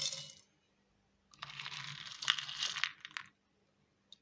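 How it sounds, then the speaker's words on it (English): Dry beans spooned into a jug during a Montessori practical-life exercise: a short faint scrape, then about two seconds of soft rattling and pattering as the beans drop in, and a single small tick at the end. "You scoop some beans and place it inside the jug."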